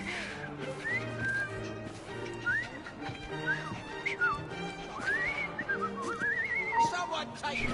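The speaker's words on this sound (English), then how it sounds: "I've just learned to whistle." A man whistles a wandering, sliding tune in the Assassin's Creed Syndicate video game, set in a Victorian London street scene, with rising and falling notes over a busy background of horse clip-clops and faint distant voices.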